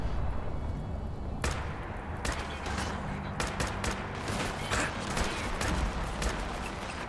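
Gunfire and explosions in the video game Fallout 4: sharp shots and bursts crack out repeatedly over a rumbling battle background, fairly close and loud, in irregular volleys.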